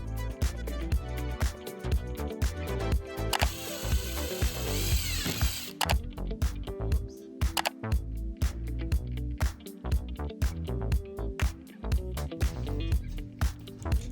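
A wooden edge is carved out for a DIY fireplace mantel, making dense, rapid, rhythmic scraping and knocking. A brief high whining burst rises midway.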